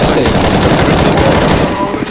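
Dense, continuous gunfire rattles through a round of the Counter-Strike: Global Offensive zombie escape mod on the Wanderer's Palace map, loud and sustained for about two seconds, with players' voices faintly mixed in.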